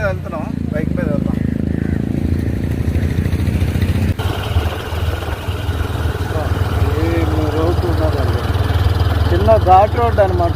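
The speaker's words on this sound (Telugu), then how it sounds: "బైక్ మీద వెళ్తాం." A motorcycle climbing a small ghat road lined with flowering plants and bamboo near Vizag gives a constant low engine hum, with wind rushing past and someone talking almost throughout.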